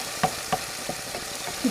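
Beef frying in hot oil, with a soft steady sizzle broken by a few sharp stirring knocks, close and fairly quiet, with no voices.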